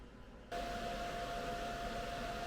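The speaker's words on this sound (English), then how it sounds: "Now I have to do the plug welds on top" Plug welding sheet metal on a 1982 air-cooled VW Vanagon Westfalia: after half a second, a close, steady buzzing hiss starts abruptly and runs continuously to the end.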